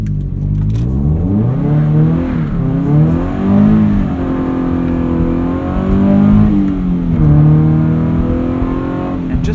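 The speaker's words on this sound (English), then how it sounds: "I'm going to hit an entrance ramp for you and let you hear the exhaust a little bit more" A Subaru BRZ's exhaust rises and falls as it accelerates through the gears on an entrance ramp in winter, a steady loud growl with repeated revving climbs, close and continuous.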